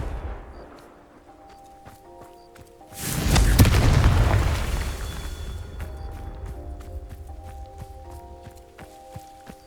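Confringo spell blast in Hogwarts Legacy: a sudden heavy booming explosion with a rumbling tail that fades over a few seconds, amid soft game ambience and light footsteps, no talk.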